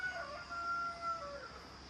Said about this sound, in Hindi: यहाँ पे ना मुर्गा है, सुबह 5 बजे से लगा हुआ है